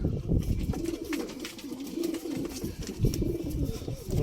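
Pigeons coo in low, repeated rolling calls, close by, with light rustling and faint chirps in the background.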